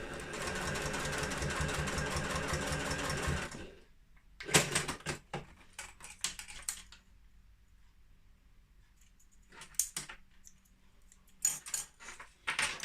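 A sewing machine stitches down folded fabric strap material in a steady fast whir for a few seconds, then stops, followed by quieter handling clicks and short mechanical bursts nearby.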